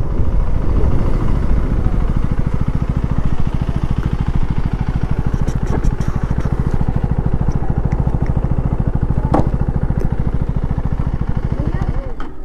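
A KTM Duke 390 motorcycle engine thumps at a steady, rapid idle while the bike is pulled aside and parked, loud and close, with people talking over it.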